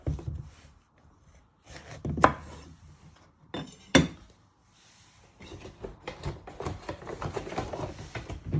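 A kitchen knife chops the ends off a courgette on a board, giving a few sharp, close knocks spaced apart, followed by softer rustling handling sounds.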